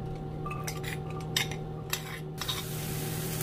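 Finely chopped onion goes into a skillet with a little olive oil, with a few light clinks of metal utensils against the pan over a steady low hum and faint background noise; no voices.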